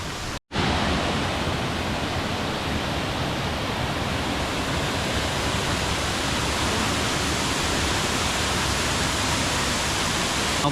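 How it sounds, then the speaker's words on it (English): Rushing water from a fountain at Villa d'Este, a dense, steady roar of falling water filling the whole clip, loud and close, with no voices over it. "that waterfall is, here I'm calling it a waterfall, it's a fountain"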